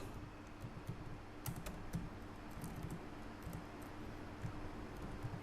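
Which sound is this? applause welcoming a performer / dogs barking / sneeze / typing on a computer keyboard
typing on a computer keyboard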